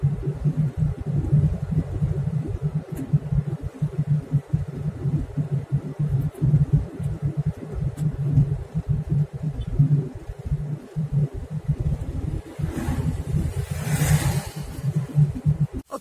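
A car drives up a mountain road, heard from inside: a steady, loud low engine drone and road rumble with a pulsing throb throughout, and a brief higher hiss near the end.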